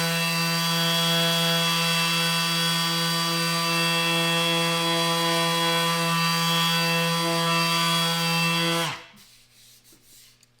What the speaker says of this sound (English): I'm just gonna go right in and start sanding at number 4. This is a piece of maple that we have.